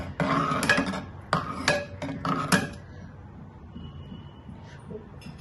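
Jackfruit and green gram payasam is stirred in a metal pot, giving several clattering scrapes and knocks of a spoon against the pot in quick bursts, then quieter rubbing, all close and without talk.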